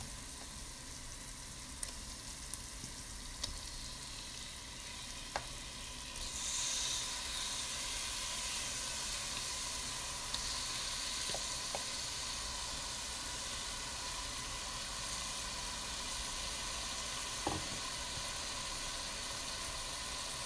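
Meat frying in a pan with onions for a fennel tajine, a steady broad sizzle and hiss that continues evenly throughout, slightly louder after the first few seconds, with a few faint clicks and no talk.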